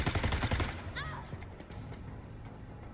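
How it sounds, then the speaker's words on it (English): Heavy barrage of gunfire in the video game Necromunda: Underhive Wars, a dense burst of rapid shots up front that rumbles on loudly, with a voice briefly audible over it. "Heavy barrage in your face."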